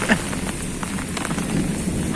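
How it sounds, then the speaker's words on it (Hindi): Rain that has kept falling for about an hour patters steadily around someone standing under an umbrella, a constant wet hiss with scattered drop hits and a faint voice mixed in. "अभी तक लगी हुई है बारिश, तकरीबन 1 घंटा तो पक्का हो गया होगा तब से लगी हुई है।"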